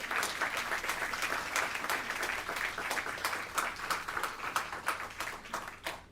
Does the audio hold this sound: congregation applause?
yes